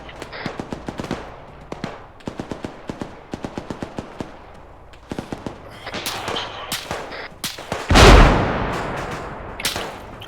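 A heavy blast booms near the end of a battle, rising above scattered, sharp bursts of rapid gunfire that crackle in uneven volleys throughout.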